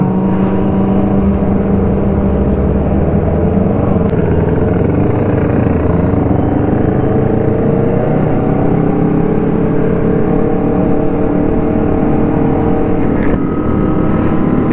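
A Kawasaki ZX25R motorcycle engine drones steadily and loudly at a busy Sunday-morning ride gathering, a continuous close engine roar with wind buffeting and no clear breaks.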